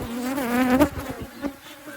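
Honeybees buzzing close by around an opened hive being split after the canola bloom, a dense, wavering drone with individual bees passing near and fading.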